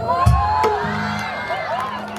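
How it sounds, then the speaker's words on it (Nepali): Audience at a live shayari comedy show in Chitwan hooting and cheering, a brief loud burst of whoops and shouts at the start, then a sustained crowd murmur with scattered calls. "ल यति भन्दाखेरि यति हुटिङ आयो"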